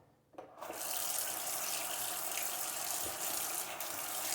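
Water runs from a kitchen tap in a steady, close hiss that starts abruptly and keeps flowing evenly with no voices over it.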